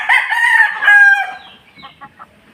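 A White Kelso gamefowl rooster crows loudly and close by in one full drawn-out call, followed by a few faint clucks as it trails off.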